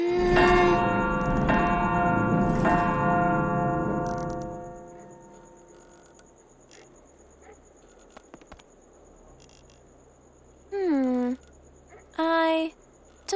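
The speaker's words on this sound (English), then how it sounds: "The dragon's bell. How do they manage to ring it without a rope?" A dragon's bell in the fantasy adventure game Anna's Quest tolls loudly with long, ringing overtones that fade over several seconds, followed by quieter chimes and short voice-like calls near the end.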